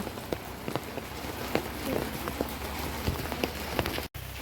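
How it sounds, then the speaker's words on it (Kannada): Dense, steady rain hisses across the whole clip, with scattered sharper drops pattering close by, briefly cutting out near the end. "ಜೋರು ಮಳೆ ಬರ್ತಾ ಇತ್ತು"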